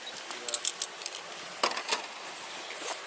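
Keys jangle in several short metallic bursts at close range, with a faint voice in the background.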